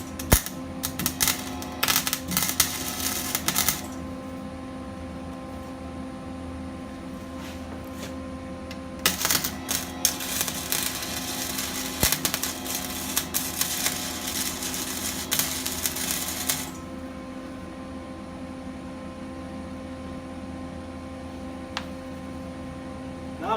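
Tack welding steel adjustable feet for a fish tank rack gives crackling, sputtering arc bursts in two long runs, with a short burst before the last and a steady hum between.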